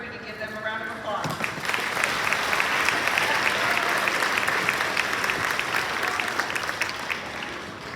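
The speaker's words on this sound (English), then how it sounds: "We can give them a round of applause." A crowd at a school awards day ceremony breaks into sustained, dense applause for an award group, loud and steady for several seconds after a brief voice at the start.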